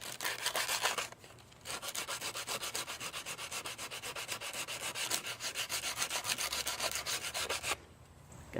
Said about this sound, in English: try sanding down these boards to thin them out just a little bit